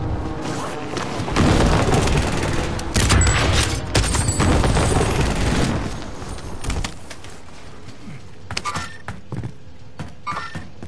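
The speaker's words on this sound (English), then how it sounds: "Allied precision airstrike incoming." Precision airstrike explosions in Call of Duty Modern Warfare, a run of heavy booms and thuds packed into the first six seconds, then sparser distant impacts fading out under game noise.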